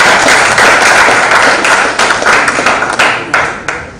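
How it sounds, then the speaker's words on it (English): Loud, dense clapping from an audience at a business breakfast meeting, sustained for several seconds before thinning out toward the end, with no talking. "a round of applause for the Bank of Uganda"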